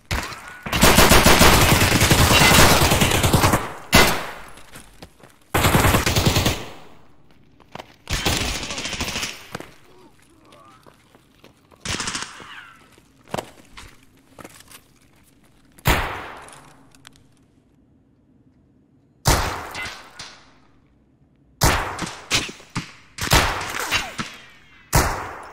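Gunfire in a Labs match of a shooter video game comes in loud, dense bursts of automatic fire, some long and sustained, others short and clipped, separated by quiet gaps.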